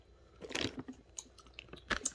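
Someone chews a watermelon-flavoured Dollarama candy close up, giving a few soft, crunchy, wet bites in irregular bursts with no talking.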